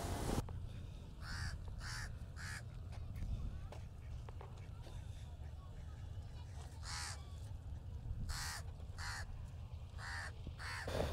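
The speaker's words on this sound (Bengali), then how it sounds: "দেখেন এইদিকে কাউয়া এমন পরিমাণে ডাকাডাকি শুরু করেছে।" Crows caw repeatedly from a riverbank on the Padma near Rajshahi, sharp harsh calls in clustered bursts at moderate distance over a steady low rumble of wind and ambient noise.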